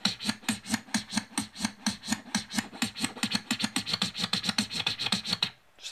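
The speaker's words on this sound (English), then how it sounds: "Great for scratching." Rapid rhythmic scratching on the touch-sensitive platter of a Numark Mixtrack Pro DJ controller, a fast steady run of raspy back-and-forth strokes, close and loud, stopping just before the end with no talking.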